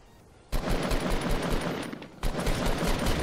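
Bursts of gunfire in the mobile battle royale game Fortnite Mobile, loud and dense, starting abruptly after a quiet moment, briefly dropping off and then resuming, with no talk.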